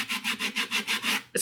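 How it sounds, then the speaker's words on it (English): A sanding block rubbed back and forth over wood, seven even rasping strokes in a steady rhythm, close and clear, ending in a brief knock. "really get rid of all of your rough edges, and that's what your sanding block is for"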